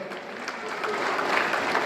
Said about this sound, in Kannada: ದಯವಿಟ್ಟು ಜೋರಾದ ಚಪ್ಪಾಳೆ ಬಂಧುಗಳೇ